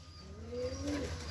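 A pigeon gives a soft, rising coo, close and fairly faint, over a quiet rooftop background.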